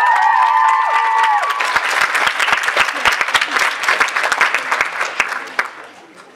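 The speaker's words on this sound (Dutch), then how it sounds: "Geef allemaal een applaus voor Colin Vie!" Applause and scattered cheering from an audience at a school event in Tienen, with music fading out at the start, then dense clapping that thins and tapers away near the end.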